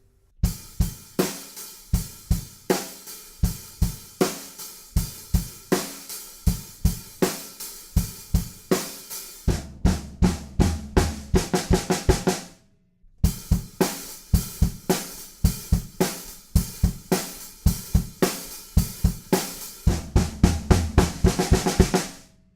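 Drums drive a busy, cymbal-heavy beat from a song, then quicken into a rising flurry of hits that builds toward the chorus, pauses briefly, and repeats the build-up.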